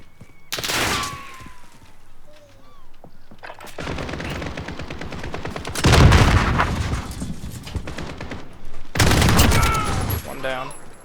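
AK-47 fire in Call of Duty: Modern Warfare on a docks map, several loud separate bursts of rapid automatic shots with ringing tails, with a player's voice talking between them.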